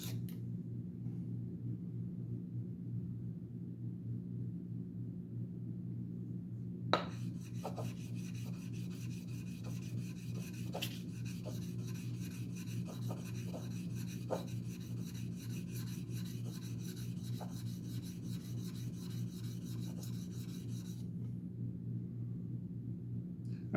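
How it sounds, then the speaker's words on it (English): Titanium knife scales are sanded by hand with sandpaper: a steady, faint rasping rub with small scrapes and taps, heard over a low constant hum. "And we go with the next sandpaper, I'll sand in a different direction."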